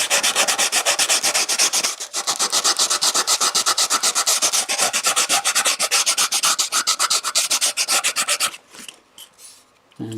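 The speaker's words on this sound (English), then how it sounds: "it's just a matter of a nice little sand there" Hand sanding a wooden tray handle, a steady close rasping rub in rapid back-and-forth strokes for about eight seconds, then a few lighter scuffs before it stops.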